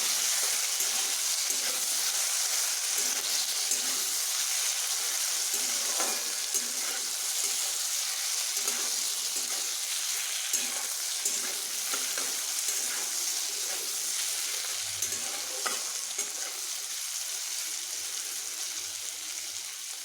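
Potatoes seasoned with salt and turmeric frying in a pan, giving a dense, steady sizzle that stays loud and constant throughout, with faint occasional scrapes.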